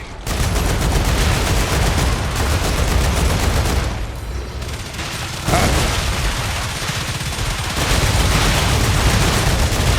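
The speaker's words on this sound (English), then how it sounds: "help me out, Gatling guns. Or turrets, whatever." Gatling gun turrets firing in the video game StarRupture, a dense, unbroken roar of rapid gunfire that stays loud for the full ten seconds with only brief dips in intensity.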